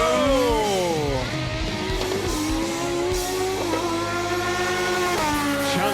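A drag racing car launches hard and spins its wheels, its loud engine climbing in pitch through repeated revving sweeps that drop and rise again as it pulls away, heard close with no talk.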